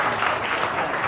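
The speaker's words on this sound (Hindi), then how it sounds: "जोरदार तालियां बजाइए।" Audience applause at a Bollywood film music launch, a brief, even roar of many hands clapping at moderate volume.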